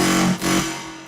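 A buzzy, sustained synth tone with its filter turned all the way down gives a dark, muffled top end, briefly dipping before it drones on and slowly fades.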